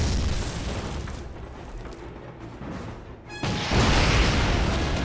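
Tanks blown up in a Call of Duty railyard battle, a heavy rumbling explosion that swells suddenly into a loud roaring blast over a constant din of combat.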